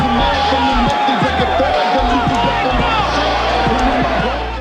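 Large boxing arena crowd in St. Louis roaring and cheering through a fighter's ring entrance, a dense continuous wall of voices with whoops and shouts, loud and close throughout.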